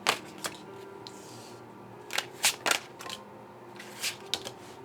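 Crow Tarot cards being shuffled by hand, giving a string of crisp riffling bursts and soft flicks spread irregularly across several seconds, close and fairly quiet with no talking.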